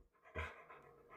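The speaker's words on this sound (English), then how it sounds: "No, that's a dog." A dog pants in short, quiet breaths with one slightly stronger huff, close to the microphone, and no bark stands out.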